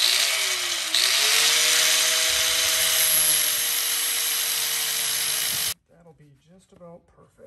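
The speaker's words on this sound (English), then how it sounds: "We're just gonna use a flap disc." An angle grinder fitted with a flap disc grinds down the tip of a metal nut on a trailer leaf-spring job, a loud, steady high-pitched whine that dips slightly as it bites, then stops abruptly before someone speaks.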